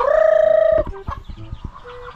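Hens and young chickens on a rural Philippine farm: a loud drawn-out crow-like call opens close by, then short clucks and chirps scattered after it, with no talk.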